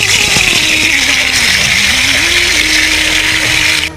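Fish coated in turmeric and salt sizzling in hot oil in a wok, a steady loud hiss and crackle of frying with no talk, fading slightly at the end.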